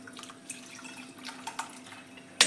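Tangy pani puri spice water strains through a sieve as soft trickles and scattered faint drips, ending in a brief, sharper splash.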